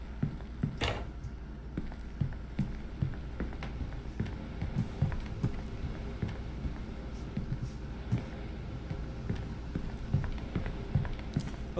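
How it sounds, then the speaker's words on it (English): Footsteps of a player character in a video game, steady and fairly quiet, with no talk over them. "Do you hear my footsteps?"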